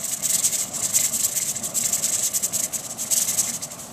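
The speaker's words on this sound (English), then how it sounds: "the steam is coming out of the vent now" Steady loud steam hiss venting from a pressure canner processing green beans, a continuous close rushing whoosh with faint pulsing flutter throughout.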